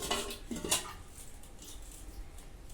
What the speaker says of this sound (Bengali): এখন একটু ভালো করে ধুয়ে রাখি প্রদীপগুলোকে